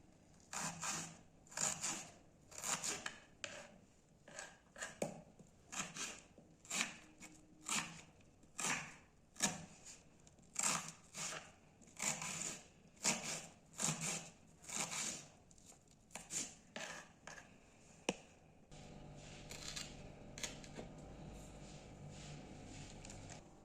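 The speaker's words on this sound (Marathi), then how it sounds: "कांदे बारीक चिरून घेऊत।" Two onions being finely chopped with a knife on a board, a quick run of close, crisp blade taps in uneven bursts, then the cutting stops and a softer rustling handling noise follows; no one speaks.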